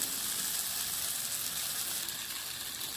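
Fennel seeds and spices sizzling in hot oil for an egg masala curry, a continuous bright, hissing crackle that stays close and steady throughout with no talking.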